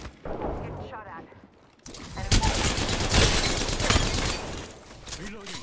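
Sustained gunfire in Apex Legends, a dense, close, continuous rattle of rapid shots lasting several seconds after a brief stretch of voices, with talking heard before and during the firing.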